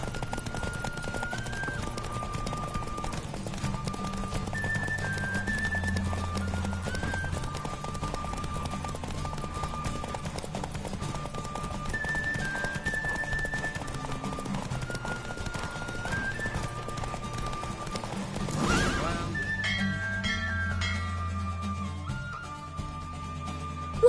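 Horse hooves pounding in a galloping race in the video game Witcher 3, a steady rhythmic clatter under game music, with a sharp surge of noise near the end followed by a neigh.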